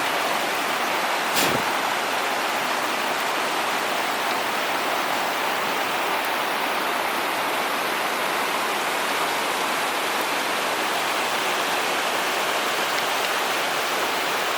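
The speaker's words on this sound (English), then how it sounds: "decent stream crossing of the day. Flowing pretty good, but only about knee deep." A flowing mountain stream at a knee-deep trail crossing makes a steady, loud broadband rush of water, unbroken throughout, with one brief sharp click near the start and no talking.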